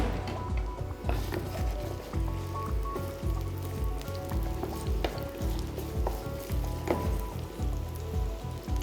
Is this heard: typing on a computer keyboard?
no